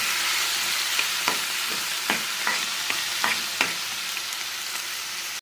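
Tomato pieces fry in a pan with a constant loud sizzle, broken by several soft stirring scrapes and taps at irregular intervals; no one talks.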